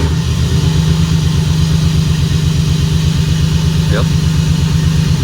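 A rough-running car engine idles steadily and close by with a low, pulsing rumble, while someone says a brief word over it.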